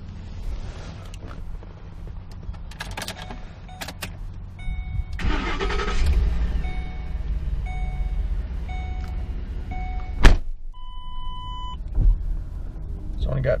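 A 2012 Lincoln Navigator L SUV engine idles with a low steady rumble, while people talk over it and sharp clicks and a brief bump break in.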